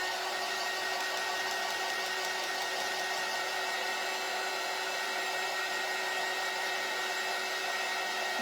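A hair dryer blows steadily, drying snow paint brushed onto small cardinal ornaments for a Christmas tree stand, its even whirring hum continuous and close throughout with no talking.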